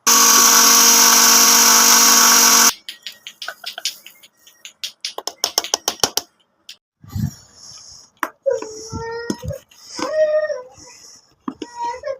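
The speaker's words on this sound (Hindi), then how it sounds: "ये रेड मिर्ची लिया वो हम इसमें एक चॉपर में कर लेंगे" An electric chopper grinds red chillies for a mango pickle in a loud, steady burst of whirring that stops abruptly, followed by scattered clicks, knocks and some talking.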